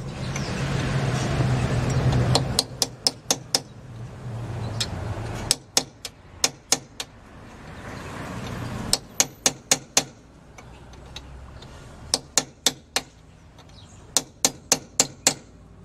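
Sharp metallic hammer strikes stake the axle nut on a 1997 Honda Civic during a rear wheel bearing and hub job, coming in close, loud bursts of several quick blows separated by short pauses.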